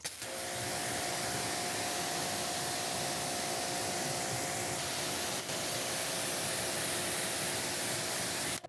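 Steady, loud hissing spray of a rinse over a car's paintwork, continuous and close for several seconds with no voices.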